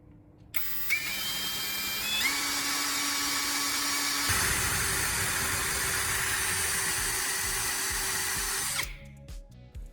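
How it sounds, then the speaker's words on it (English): Power drill boring holes into a thin metal paintbrush ferrule, a loud steady high-pitched whine that shifts pitch twice as the bit bites, then winds down and stops near the end. "Take a drill and create several small holes in the metal ferrule."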